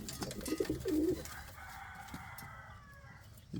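Indian fantail pigeons cooing in a breeding loft, a short burst of soft throaty calls up front that gives way to quieter ambient noise, with faint talking in the background.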